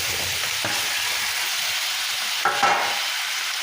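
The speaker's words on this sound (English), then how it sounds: "Okay, I want to stir in my tofu." Tofu frying in sauce over high heat, a loud, steady hiss of sizzling with a couple of brief stirring scrapes partway through, no voices.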